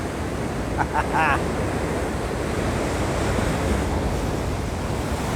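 Loud, roaring ocean surf crashes and rushes continuously onto the shore at Margate, mixed with buffeting wind noise, and a brief squeaky sound cuts through early on.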